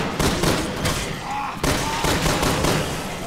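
Gunfire in Resident Evil 6, a run of sharp shots in quick succession, loud and close, with short pauses between volleys and a faint voice underneath.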